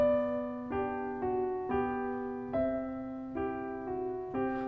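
A piano plays a melody from Minuet in G in separate notes, about one every second, while a low note holds steadily underneath and keeps ringing.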